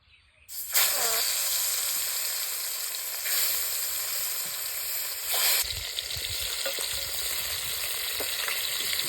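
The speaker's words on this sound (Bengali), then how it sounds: "তেলটা গরম হয়ে গেছে এইবারে আমরা মাছটা দিয়ে দেবো" A large snakehead fish drops into hot oil and sets off a sudden loud, broad sizzle that holds steady and close, with bursts of crackling spatter along the way.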